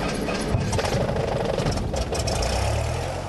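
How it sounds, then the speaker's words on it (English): A small airplane engine runs after being started with a turn of the key, a loud steady rumbling drone close by with no talk over it. "The turn of the key and the engine came to life."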